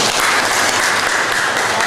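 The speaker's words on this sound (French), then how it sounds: "Applaudissez très fort pour ça." Dense, sustained applause from an audience at a corporate event promoting new managers, many hands clapping at once in an even, loud wash with no pauses.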